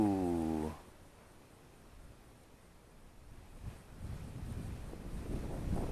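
Wind buffets an outdoor camera microphone, a low rumbling gusty roar that swells louder toward the end, with a brief tonal whine at the start.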